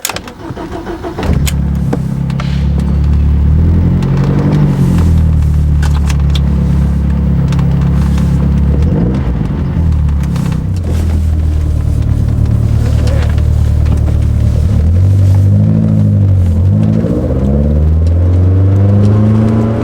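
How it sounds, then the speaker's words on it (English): A 1990 BMW M3 cold-starts on its first start of the day: a brief cranking, then the engine catches and settles into a loud, steady idle with occasional revs and shifting engine tones throughout. "Cold start video of our 1990 BMW M3. First start of the day."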